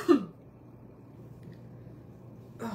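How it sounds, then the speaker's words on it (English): One short throat-clearing cough from someone with a cold, close and brief at the start, then quiet room tone before a second rough sound at the end. "this cold is not good for my cough"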